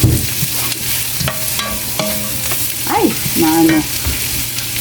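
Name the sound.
tomato being sautéed in a pan for green beans with shrimp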